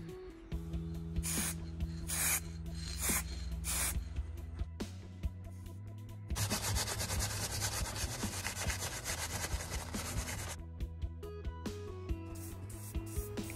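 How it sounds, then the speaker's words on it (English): A cloth rubs over the frame of a 1999 Specialized Hardrock retro mountain bike in a final wipe-down. Close, soft rubbing strokes come in waves over a steady tonal background, with a denser stretch of wiping in the middle. "it's just the quick last final wipe down to get rid of all any residue that I used for cleaning"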